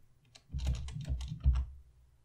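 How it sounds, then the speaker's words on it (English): Typing on a computer keyboard, a short run of close, soft key clicks in quick irregular bursts with a slightly heavier cluster near the end, alone in a quiet room. "I could just type employee."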